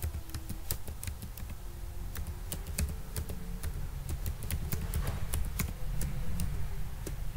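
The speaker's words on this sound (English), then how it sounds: "So here I am typing my name" Quick, close clicking on a computer keyboard as a name is typed in Notepad, irregular keystrokes over a low steady hum.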